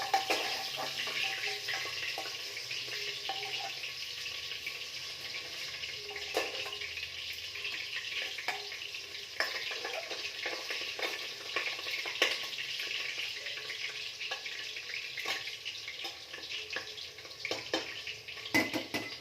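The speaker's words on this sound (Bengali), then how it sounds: "আলুগুলো একটু ভেজে নিই, লাল করে নিই।" Potatoes fry in a pan, a quiet continuous sizzle running throughout with occasional clinks and scrapes of utensils, and a faint watery hiss in the background.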